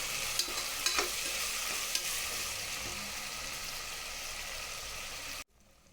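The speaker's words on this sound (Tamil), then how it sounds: "இஞ்சி பூண்டு பேஸ்ட்டு பச்சை வாடை போகிற வரைக்கும் நல்லா வதக்கி விட்டுக்கிறோம்" Ginger garlic paste sautéing in oil in a pan for chicken biryani, a steady close sizzle with a few sharp stir scrapes, cutting off abruptly near the end.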